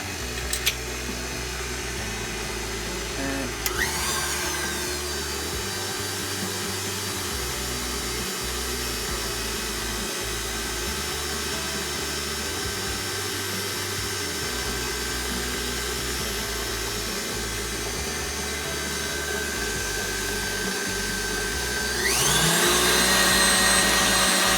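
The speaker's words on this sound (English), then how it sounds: "whisk that in." An electric mixer whisks butter and sugar for a vanilla cake, a loud steady motor whir that holds throughout and rises in pitch and volume near the end, with no talk.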